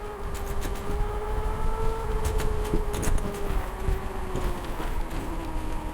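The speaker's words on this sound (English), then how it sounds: "Getting some brake noise in the front" Front disc brake on a BIBUFF GT600 72V electric dirt bike squealing as a steady tonal whine over road rumble and wind, drawn out for several seconds with a few brief clicks.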